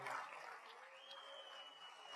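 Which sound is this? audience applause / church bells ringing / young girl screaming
audience applause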